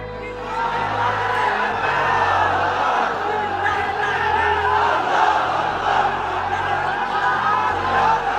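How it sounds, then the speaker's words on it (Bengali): A large crowd at a sermon shouts takbir in unison, a loud, sustained collective roar of voices that swells and holds for several seconds without pause. "তাকবীর দেন তো একজন আওয়াজ করে"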